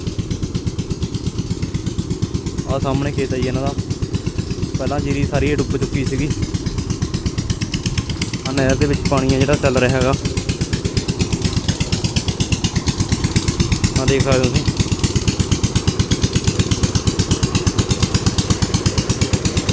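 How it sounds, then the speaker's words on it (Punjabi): Water-pump engines run continuously beside a flooded paddy field near a canal, a steady mechanical drone throughout with someone talking over it. "ਲਗਾਤਾਰ ਤਾਂ ਇੰਜਣ ਚਲਾ ਰੱਖੇ ਨੇ"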